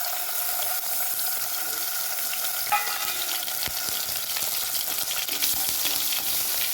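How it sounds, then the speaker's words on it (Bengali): Steady crackling sizzle of ginger and chili paste frying in hot oil, with a few light scraping clicks of a utensil. "এইভাবে ভাজা ভাজা করে নিতে হবে।"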